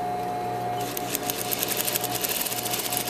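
A sewing machine stitches apron fabric, starting after a brief pause and then running in a steady, close, fast rhythmic whir of needle strokes with no talking.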